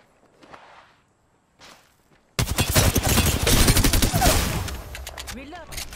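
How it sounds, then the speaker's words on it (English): Game gunfire in Apex Legends erupts after a quiet start, with rapid bursts of sharp shots and crackling impacts filling the rest of the moment, loud and close, with faint movement sounds before it. "Shots fired at me."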